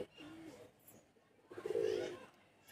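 Deep-eyed tournament pigeons coo softly nearby, a low throaty burble swelling near the end, with faint background murmur.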